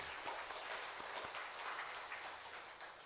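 Congregation applauding in a church service, a soft, steady wash of many hands clapping for about three seconds, fairly distant and reverberant, with no talk over it.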